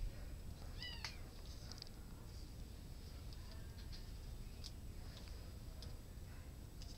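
A long-haired fluffy cat gives a faint, brief meow near the start, followed by scattered soft ticks and clicks over a low steady background hum.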